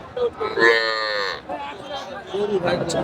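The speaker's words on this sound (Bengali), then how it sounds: "এগুলা বড় গরু" Cattle at a market, including large cows and heifer calves of Sahiwal and local breeds, lowing in a loud drawn-out moo near at hand, with murmuring voices and market noise around it.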